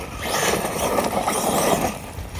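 A Losi DBXL-E 2.0 electric RC car runs at full throttle, giving a steady, loud, broadband whir and rush of motor and tyres that holds for about two seconds before easing slightly.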